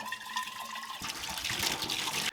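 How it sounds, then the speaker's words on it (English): Water rushes and splashes while a fitting from a homemade, flamethrower-like device is rinsed out, rising from a thin trickle to a louder, fuller gush that runs steadily for a couple of seconds, close up and with no talking. "I'm gonna rinse this out with some water"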